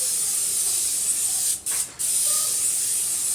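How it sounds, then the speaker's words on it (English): An olive oil cooking spray hisses onto a pan for about a second and a half, then two quick short bursts follow, close by. "I'm also going to go ahead and spray the pan that I'm going to put my veggies in."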